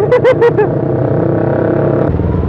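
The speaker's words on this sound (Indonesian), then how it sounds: "ini knalpotnya si motor depan tuh berisik banget" Loud motorcycle exhaust with no silencer roars close by in traffic, a few sharp revving bursts at first, then a steady, harsh drone; a Yamaha R25 rider is nearby.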